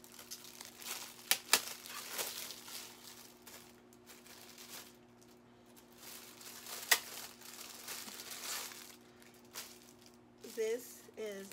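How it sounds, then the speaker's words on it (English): Savage x Fenty lingerie is pulled from crinkly plastic packaging close by. Intermittent rustles and sharp crinkles come under a person's talking. "Let me take it out the plastic."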